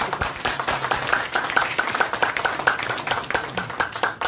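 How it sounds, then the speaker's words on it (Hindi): Steady clapping from a small group, continuous and fairly loud throughout, with no talking over it. "तालियां, देखो यार, तालियां।"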